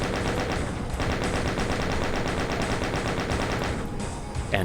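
Rapid, continuous gunfire rattles nonstop in the video game Arrival, Map04 Free Press, as gunners are shot down, loud and dense with no talking.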